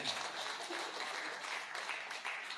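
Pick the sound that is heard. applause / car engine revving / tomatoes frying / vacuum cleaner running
applause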